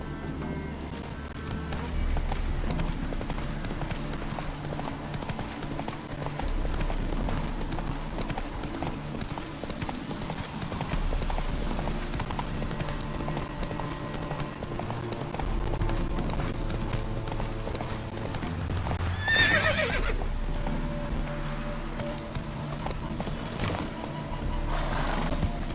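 A horse gallops in The Witcher 3: Wild Hunt, its hoofbeats a continuous rhythmic clip-clop over a layered game ambience, with a brief neigh near the end.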